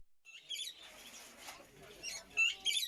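Zebra finches and other small caged birds chirp at an outdoor Paris bird market by the Seine, giving bursts of high, thin tweets over a soft murmur of crowd background.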